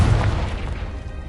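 Casting Confringo in Hogwarts Legacy sets off one heavy boom, loudest at the start, then decaying into a low rumbling tail.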